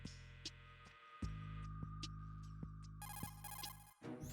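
A telephone rings in the Metal Gear Solid 2 video game, a tonal electronic ring over a steady low hum with a few sharp ticks, growing into a brighter, buzzing trill near the end.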